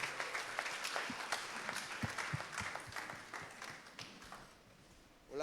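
Church congregation applauding together, a sustained burst of rhythmic clapping with some sharp individual claps, fading near the end, with faint voices mixed in.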